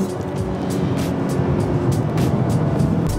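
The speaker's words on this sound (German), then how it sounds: "Jetzt fahren wir mal los und schauen mal, wie die Karre noch fährt" A VW Golf 7 GTI TCR pulls away, its engine giving a low, steady drone with rhythmic pulses of road and wind noise from inside the moving car, without talk.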